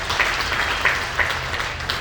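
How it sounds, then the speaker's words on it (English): Steady applause from a crowd, a continuous wash of clapping with a few sharper claps standing out, lasting a couple of seconds. "Let's give her a round of applause."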